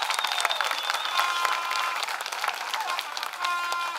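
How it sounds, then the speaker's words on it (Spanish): An audience applauding former public works minister engineer Gonzalo Castillo, a dense wash of clapping with cheers and shouted voices rising and falling, steady and fairly close. "yo pido un fuerte aplauso"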